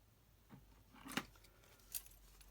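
Scissors snip through a paper strip at a craft table: a couple of quiet, brief crisp cuts, the clearest one mid-way and another near the end, over faint room hiss.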